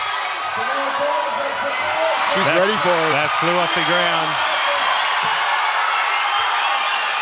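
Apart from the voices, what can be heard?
full-house crowd cheering at Australia's Strongest Man and Woman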